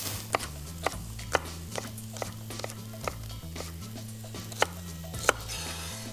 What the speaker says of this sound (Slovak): Šparglu nakrájame na menšie kúsky.